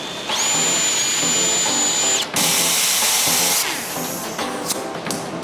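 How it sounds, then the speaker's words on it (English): A close power drill whirs at high speed drilling a hole in a door panel, pauses briefly, then bites in again with a harsher grinding whine before winding down. "I'm gonna drill the hole smaller in the panel"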